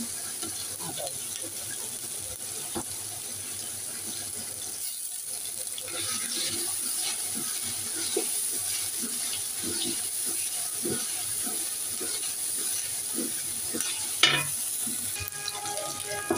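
Ginger and garlic paste frying in oil in a pan for beef khichuri, a steady close sizzle with occasional scrapes and clinks of a stirring utensil and a sharper knock near the end.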